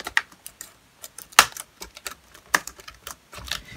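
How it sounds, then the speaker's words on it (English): An HP Mini 110 netbook keyboard being pressed and clipped into its frame, a scatter of sharp plastic clicks and taps at close range, two louder snaps standing out, with no speech. "Now clip the keyboard right into place."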